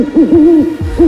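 A close, loud voice makes a few quick rising hoots, imitating an owl's call in short repeated bursts.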